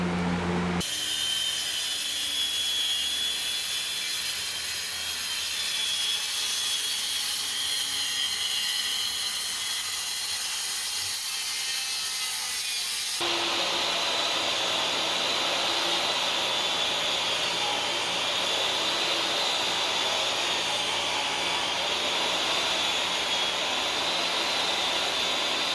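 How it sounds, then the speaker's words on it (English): A DeWalt DWE7491RS table saw whines as it spins up and then rips through a sheet of 3/4-inch plywood, the pitch growing harsher and louder midway as the blade bites, steady and close. "let's cut a piece of 3/4 inch plywood that size."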